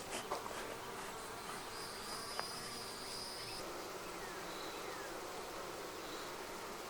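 Honey bees buzzing around a hive in a steady, dense drone, quiet and continuous, with no voices.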